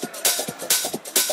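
Electronic top loop for a track layers hi-hat, shaker, percussion and crowd noise, with bright noisy bursts pulsing in a quick repeating groove, close and alone.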